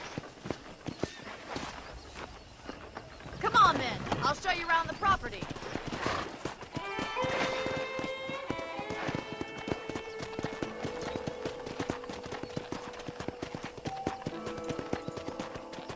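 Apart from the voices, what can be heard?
horse hooves clip-clopping while riding in Red Dead Redemption video game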